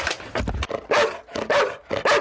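A rescue dog searching ruins during a national rescue-dog championship barks in short repeated bursts, loud and close, with brief pauses between barks.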